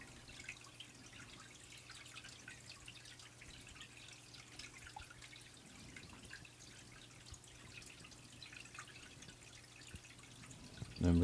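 Water runs steadily through a gold sampler sluice as a soft, continuous trickle with faint drips, staying even and fairly quiet throughout, with a brief knock at the very end.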